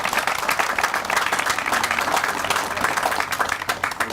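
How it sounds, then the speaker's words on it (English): At a ribbon cutting for a community tennis facility, a small outdoor crowd gives a steady round of applause, dense, even clapping that carries on throughout without pause. "They deserve a round of applause."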